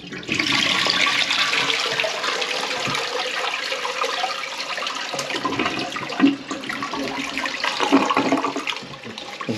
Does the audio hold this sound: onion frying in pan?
no